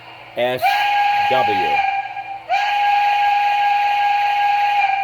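A loud, steady whistle from an MTH Pennsylvania Railroad Mikado model steam locomotive sounds twice, a sustained bright tone with a hissy edge, briefly broken by a short vocal-like warble between blasts.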